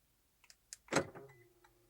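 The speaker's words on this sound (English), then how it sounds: "Now car has unlocked." Toyota door locks releasing on a remote key press: a couple of faint clicks, then a sharp close-up mechanical thunk followed by a brief fading hum.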